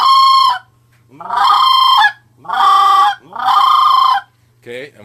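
A Triad Killer goose call blown to imitate a sandhill crane: four long, loud, rolling high-pitched calls separated by short pauses, then a brief fifth note, close with a faint steady hum beneath.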